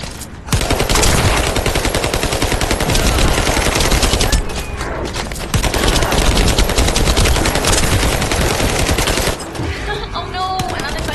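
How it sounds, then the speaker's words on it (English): A summoned turret in The First Descendant fires continuous loud rapid bursts, a dense machine-gun rattle that runs almost unbroken, pauses briefly, resumes, then tapers off near the end with a voice faintly heard. "Summoning turret."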